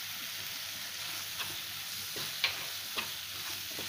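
Masala with garam masala frying and being stirred in a pan, with a steady low sizzle and a few soft spoon scrapes against the pan.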